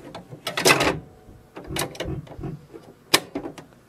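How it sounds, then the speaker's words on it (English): Ink cartridge pushed into an HP Envy Photo 6230 printer, giving several sharp plastic clicks and short mechanical knocks at close range, with a distinct snap near the end as it locks. "push it with the other hand until"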